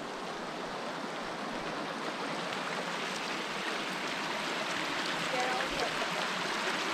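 Creek water rushes steadily past a riverside campsite in the New South Wales high country, a soft, even wash of flowing water with no pauses.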